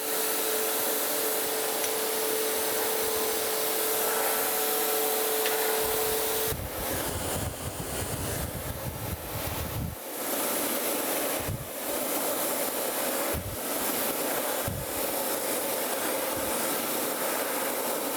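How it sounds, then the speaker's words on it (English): A grinder works the two sides of a custom-made taper gage in a machine shop, giving a continuous loud, harsh grinding noise that shifts in tone partway through and is broken by brief changes in contact. "Now what we're going to do is just put these down and grind the two sides of it."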